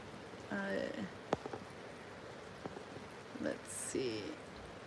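Rain falls outdoors as a soft, steady patter in the background while people talk over it in short bursts, with a few sharp ticks and knocks.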